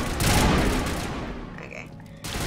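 Dense, loud burst of rapid gunfire aimed at a husk in the video game Mass Effect, a continuous roar that slowly thins out toward the end, with no one talking.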